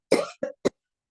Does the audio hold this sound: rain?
no